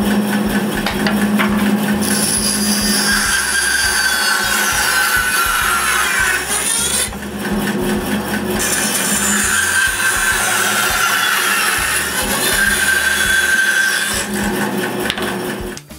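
A hand saw cutting a wedge shape from wood, loud and continuous in long, even strokes that pause briefly twice, close up and with no voices.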